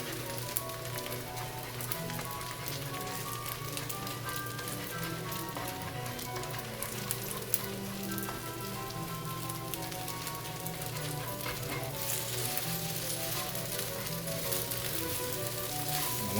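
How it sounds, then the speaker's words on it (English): Eggs fry and are scrambled in a pan for fried rice, giving a steady, dense, crackling sizzle that stays loud and even throughout with occasional stirring clicks. "now we can incorporate the eggs and scramble them while it's in the pan"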